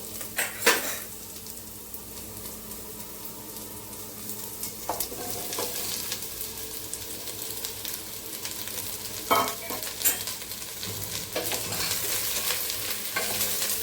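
Raw jackfruit pieces fry in a pan with onions while being stirred, a continuous sizzle broken by repeated metallic spatula scrapes and clinks, close and moderately loud, with no talking.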